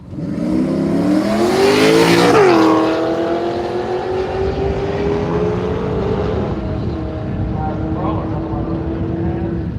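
A nitrous Holden Commodore drag car tears down the strip at Willowbank Raceway, Australia, its engine roaring loud and close before the pitch drops through a shift and settles into a long, sustained drone, with track commentary over the top.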